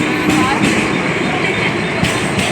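Metro train running at speed, a steady loud rumble with wheel noise and rail clatter close by, heard from on board.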